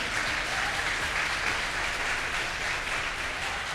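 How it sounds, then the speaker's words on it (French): A school quiz show audience applauding steadily as a college team walks to the podium, a continuous, full wash of clapping from a large crowd with no pauses. "Il faut continuer à applaudir jusqu'à leur arrivée sur le podium."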